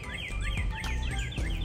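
A northern cardinal calls outdoors, repeating a rapid series of bright, downward-sweeping whistled notes in an even rhythm, moderately distant over soft background noise.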